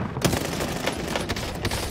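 Rapid gunfire punches through a wall in a competitive shooter game, a dense fusillade of sharp shots rattling continuously and loudly over about two seconds with no talk.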